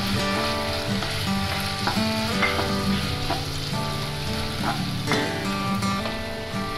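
Eggs sizzle loudly in a hot pan for chicken and egg fried noodles, with a continuous crackle and repeated metallic stirring clanks, close up and without talk.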